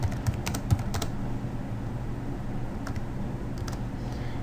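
Clicky computer keyboard typing as a question is entered into a quiz builder, a brief flurry of keystrokes followed by scattered taps over a steady hum.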